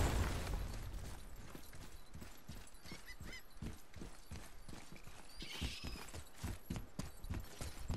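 Game horse hooves clip-clopping in God of War on PS4 Pro, a steady run of evenly spaced hoofbeats over a continuous ambient game backdrop, moderately loud throughout.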